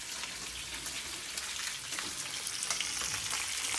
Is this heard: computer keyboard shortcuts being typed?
no